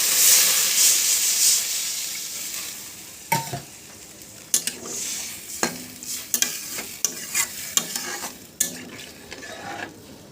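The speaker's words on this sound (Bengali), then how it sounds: "এবার পরিমাণ মতন জল দিয়ে দিব" Water poured into a pan of sautéed spice masala for a fish curry bursts into a loud hissing sizzle, then settles under repeated spatula stirring scrapes and knocks, close and alone.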